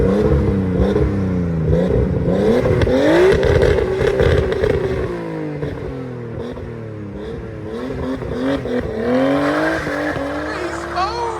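A 1989 Nissan Skyline Type-M with a high-flow catalytic converter, 3-inch exhaust and Skyline muffler revs hard, its engine note climbing and falling repeatedly, loud and close, with a voice talking over it.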